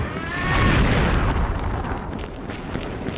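Grenade explosion in the XSHOT Online shooter game during a competitive match, a loud broadband blast with a rumbling low-end tail lasting a few seconds, heard alone without talk.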